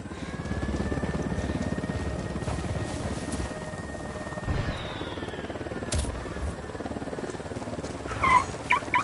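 A helicopter in the video game Ghost Recon Wildlands, a steady rhythmic rotor chop fairly close by, holding at moderate loudness over several seconds alongside scattered game effects.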